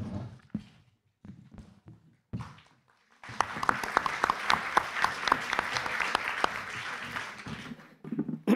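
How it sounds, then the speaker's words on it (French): Audience applause at a conference lecture bursts in after a few seconds of scattered sounds and holds steady and dense for about five seconds before trailing off into noise near the end. "N'anticipez pas trop vos applaudissements"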